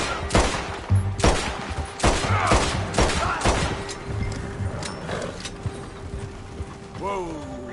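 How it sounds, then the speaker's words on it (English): Gunfire in Red Dead Redemption 2, a string of loud sharp shots in rapid bursts over the first few seconds, then fading into rustling movement and a short tonal whoosh near the end. "Shoot that bastard already."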